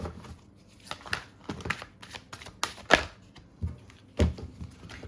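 Tarot cards being shuffled and handled, a run of papery crinkles and soft flicks that come in irregular bursts, close and fairly quiet with no talk.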